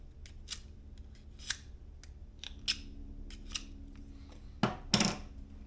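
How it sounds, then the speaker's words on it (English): A sharpened blade slicing through a cardboard carry box for a DEERC Challenger 2104 drone, heard as scattered short cuts and scrapes with a couple of louder strokes near the end, close and alone. "I am going to cut my box."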